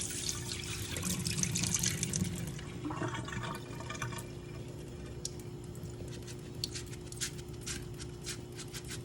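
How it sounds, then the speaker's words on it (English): Water pours and splashes steadily at first as it is poured off soaked rice, then thins into trickles and scattered drips through a mesh strainer, fairly close by. "So I'm gonna now take my mesh strainer and pour that off."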